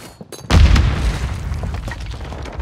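A grenade detonates in a Warzone 3 Resurgence match, one sudden loud close boom after a brief quiet lead-in, followed by a rumbling decay with scattered debris and game noise.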